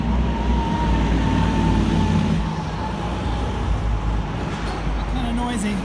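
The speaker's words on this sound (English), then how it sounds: "Kind of noisy because of the trucks." Steady road traffic with heavy trucks passing beside the Brooklyn Heights Promenade in Brooklyn, a constant loud low rumble and hiss that fills the whole stretch, with a faint tone near the end.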